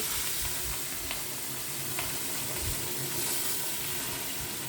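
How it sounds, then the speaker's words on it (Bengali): A catla fish head rubbed with salt and turmeric fries in hot oil, giving a steady, dense sizzle with faint clinks, loud and continuous with nobody talking. "মাছের মাথাটাকে নুন হলুদ দিয়ে মেখে রেখেছি, ওটা ভেজে নিব"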